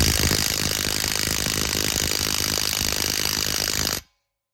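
A Milwaukee M12 1/2 inch impact wrench torques down with a rapid, continuous hammering rattle, loud and close, before stopping abruptly.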